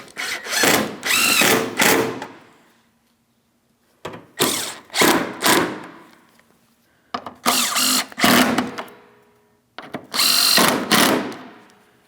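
A power drill snugs up headlight mounting bolts on a 2007-2014 Ford Edge in four separate loud bursts of about two seconds each, whirring up and then ratcheting tight, with short quiet pauses in between and no talking.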